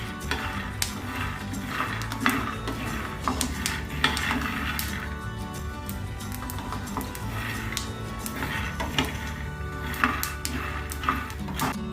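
Peanuts roasting and being stirred in a pan over medium heat: a continuous run of light scraping, rattling clicks and faint crackle, close and steady throughout.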